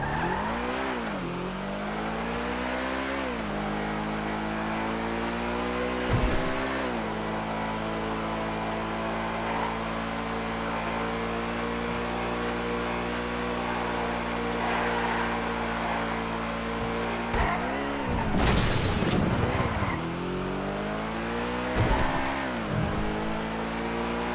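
A Nero Custom car engine in a racing video game holds a steady high whine through a test drive, with several sharp dips and re-revs as gears shift, plus a brief tire squeal late on.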